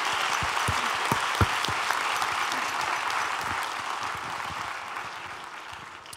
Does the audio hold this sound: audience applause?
yes